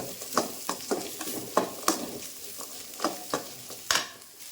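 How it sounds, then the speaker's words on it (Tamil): Dried red chillies and coriander seeds sauté in a pan for a Tamil tomato kuzhambu, with a steady sizzle broken by repeated sharp scrapes and stirs of the spoon, close and moderately loud. "வர கொத்தமல்லி இந்த அளவுக்கு எடுத்து போட்டுக்கிறேன். அதையும் வதக்கிக்கலாம்."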